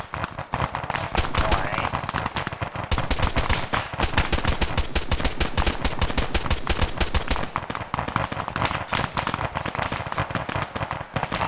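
Dense, loud gunfire in the military shooter game Arma, sustained rapid automatic bursts with sharp cracks packed close together, continuing without a break for the full stretch.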